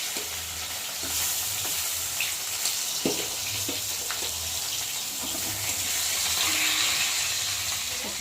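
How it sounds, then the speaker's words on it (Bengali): Pieces of rohu fish frying in hot oil in a wok, giving a continuous close sizzle and hiss with occasional stirring clinks and pops throughout. "চলো আবার মাছগুলোকে সেম ওই রকম করে ভালো করে ভেজে নেব।"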